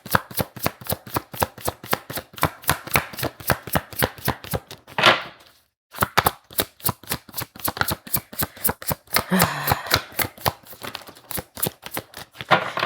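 Tarot cards are shuffled and handled in a long run of rapid, crisp snapping and riffling taps, close and steady, broken by a short silent pause midway before the quick rhythm resumes.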